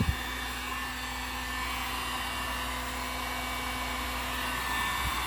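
A power tool runs on high, drawing about 1500 watts at 120 volts from a car amplifier, whining steadily at full speed, a loud constant high-pitched drone with a low hum beneath it and no pauses.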